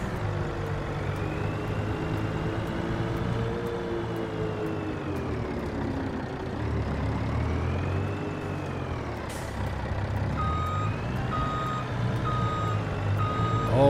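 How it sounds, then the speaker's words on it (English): A semi truck in a farming video game backs up with a steady, loud series of reversing beeps over a droning diesel engine that rises and falls, with an air brake hiss near the end and no talking. "Send the semi truck back to the yard."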